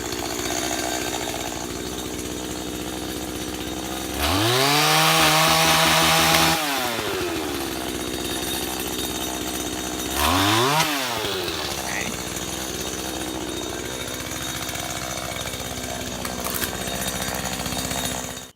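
A chainsaw trims tree branches outdoors in two loud bursts, one long and one shorter, that rev up and cut before dropping back to a low idle, with people talking faintly in between.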